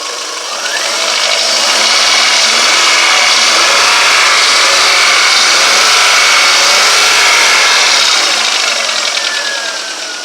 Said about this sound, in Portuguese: Vamos dar uma aceleradinha.